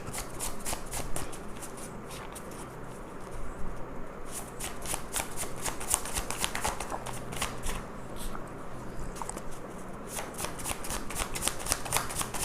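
Handwritten tarot cards shuffled by hand in a long, steady run of crisp riffling flutters and soft slaps, close and fairly loud, with brief pauses between bursts and no talking.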